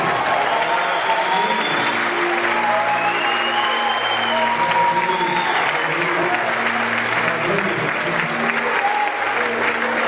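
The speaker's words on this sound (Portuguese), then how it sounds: "Aplauda o Senhor Jesus, irmão." Congregation applauding at a church worship service, a dense, steady wash of clapping throughout, with a preacher's voice and sustained tones audible over it.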